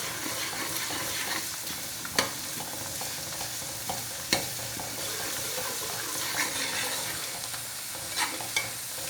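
Fried onion with ginger garlic paste is stirred in a hot pan, giving a steady close sizzle and hiss broken by a few sharp spoon scrapes against the metal.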